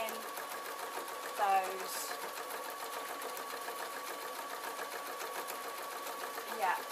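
A sewing machine runs steadily, stitching wool for a ballet bag, its fast even whir continuing throughout with a person talking over it.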